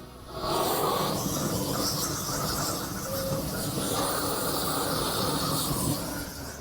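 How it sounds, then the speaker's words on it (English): A torch flame roars against bacon on a barbecue grill, a steady loud rushing hiss that starts suddenly and runs on without a break before easing off near the end. "So we're just going to take a little bit of flame and give it a little bit of BTUs."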